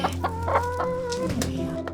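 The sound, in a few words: rescued hens clucking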